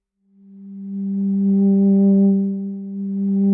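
A single sustained synthesizer tone from an Expressive E Osmose played through a Deckard's Dream, swelling in volume and brightness with key pressure, steady and clean with a few clear overtones and no talk.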